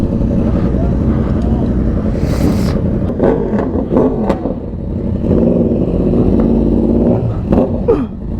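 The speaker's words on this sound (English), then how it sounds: "That thing sounds mean now with that exhaust" A loud motorcycle engine rumbles and revs with a throaty exhaust, rising and falling, while someone talks over it.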